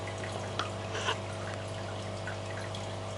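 Water from an aquarium filter outflow cascades and splashes steadily into the tank, a soft continuous trickle over a constant low hum, with a couple of brief splashy bursts.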